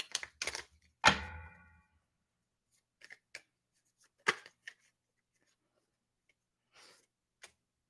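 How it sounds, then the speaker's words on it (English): Tarot cards handled and shuffled on a table during a live reading, a few sharp taps and riffling snaps followed by scattered soft clicks and knocks separated by quiet gaps. "Let me shuffle again."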